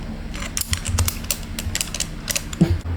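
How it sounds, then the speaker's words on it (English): A ratchet tool clicks rapidly while tightening the handlebar and headset stem bolts on a Surron electric dirt bike, with close, quick bursts of metallic ratcheting and a creak near the end. "now that I tightened up my bars and my headset stem lock"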